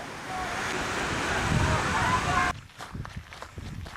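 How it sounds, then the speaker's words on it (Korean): Rushing water from a waterfall fed by Heaven Lake on snowy Baekdu Mountain, a steady broad wash that cuts off abruptly midway to quieter, uneven ambience. "눈 덮인 계곡 사이로 천지에서 흘러나온 폭포의 물줄기가 장대한 풍광을 이룬다"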